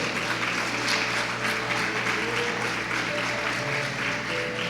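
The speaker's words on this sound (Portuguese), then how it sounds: "Pode aplaudir." Steady applause from a church congregation during an apostle's sermon, a dense even wash of clapping that holds at a constant level throughout, with faint tonal sound like music or a hum running beneath.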